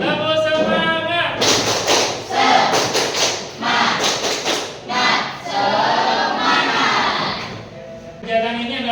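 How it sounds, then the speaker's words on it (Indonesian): A group of pupils in a classroom repeats a rhythmic chant-and-clap routine, their voices chanting loudly in unison and punctuated by crisp clusters of synchronized claps, close by and energetic. "Sekali lagi yuk. Tepuk semangat."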